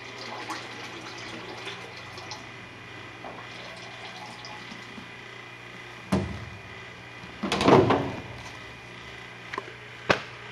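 Vegetable oil pours into a biodiesel processor tank as the last gallon tops it off, a soft steady liquid trickle with a few sharper splashes and knocks near the end, no talking.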